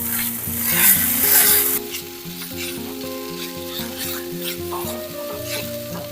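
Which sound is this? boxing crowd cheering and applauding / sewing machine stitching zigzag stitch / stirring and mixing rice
stirring and mixing rice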